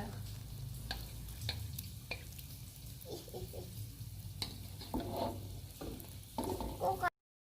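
Steamed bun dough donuts fry in hot oil, a soft crackling sizzle punctuated by scattered pops and occasional stirring clinks, fairly quiet and close, with no talking.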